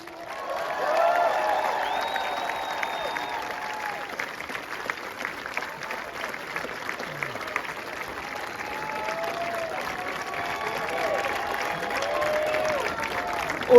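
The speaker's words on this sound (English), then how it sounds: "Everybody give a huge round of applause for Jordan Knight!" A stadium crowd applauds and cheers for Jordan Knight at Nashville SC's US Open Cup champions trophy ceremony, a sustained wash of clapping with scattered shouts throughout.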